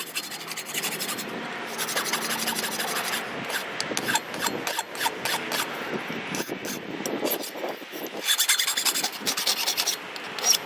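Hand file rasping against a metal wrench being shaped into a fork, a steady run of quick scraping strokes, close and fairly quiet, growing slightly harsher toward the end; no talking.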